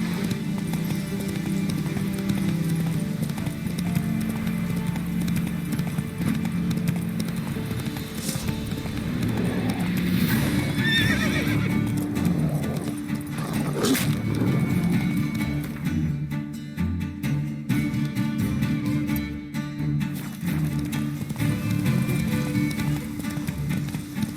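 Horse galloping in the video game The Witcher 3: steady, continuous hoofbeats over rolling game ambience, with occasional brief accents.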